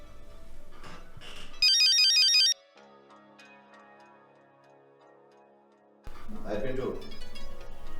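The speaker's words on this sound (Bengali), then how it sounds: "আমি একটু জুম্মা পিন্টু করে একটু ফোন দিয়ে আইতেছি।" A phone ringtone, a bright repeating electronic melody, plays loudly for about a second amid indoor speech, followed by quieter tonal hum and then people talking again.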